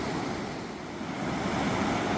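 Floodwater from a swollen river pours over a tree beside a flooded county road and low water bridge, making a steady, loud, broadband rushing roar that swells slightly toward the end, with no voices.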